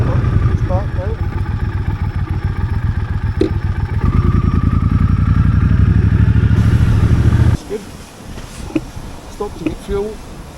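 Triumph Thunderbird motorcycle ridden along a street: a loud, close, throbbing engine with a steady pulsing exhaust that holds for several seconds, then drops away abruptly to quieter road and wind noise, with someone talking over it.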